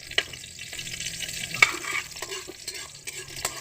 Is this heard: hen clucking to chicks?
no